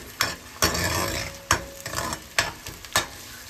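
Hot tempering for arhar dal sizzles steadily in a pan, broken by several sharp clinks and scrapes of a spoon stirring, close and fairly quiet.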